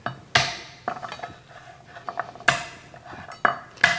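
Garlic cloves being smashed on a kitchen board for beef honeycomb tripe and bean soup, a handful of sharp, close knocks and clatters separated by short pauses.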